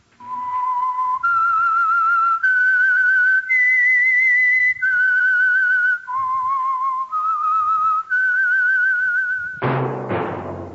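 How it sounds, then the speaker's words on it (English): A person whistles a clear, bright melody alone, the signature theme of the old-time radio show The Whistler, each note held steadily in a stepwise tune, ending with a short burst of noise. "That whistle is your signal for the Signal Oil Program"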